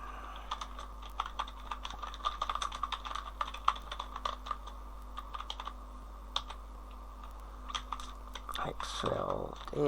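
Rapid typing on a computer keyboard, irregular bursts of close, crisp key clicks over a low steady hum, with a brief rustle near the end; no voices.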